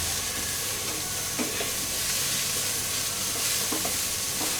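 Vegetables with green chillies stirred in a hot pan for a vegetable roll filling, a steady close sizzle with a few spoon scrapes and clicks over it.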